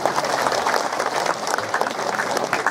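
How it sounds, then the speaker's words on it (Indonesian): Applause for Bu Jelin at a local gathering in Cimahi, a crowd clapping in a thick, continuous patter with a faint murmur of voices underneath. "Matak jadi tepuk tangan untuk Bu Jelin."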